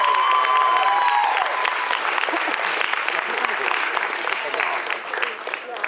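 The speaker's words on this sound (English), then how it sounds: "let's give them another round of applause for the absolutely incredible work that they've done" Audience at a cosplay championship stage event in Sydney applauding and cheering contestants, a dense steady wash of clapping from a large crowd, with a brief tone and some voices near the start.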